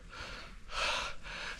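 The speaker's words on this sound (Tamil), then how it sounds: "இதுக்கே ரொம்ப மூச்சு வாங்குது." A hiker climbing a mountain on foot takes heavy, close, audible breaths: a few quick gasps and one long, louder exhale, with no talk.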